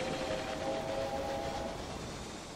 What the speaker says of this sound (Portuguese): O trem do grão tá aqui.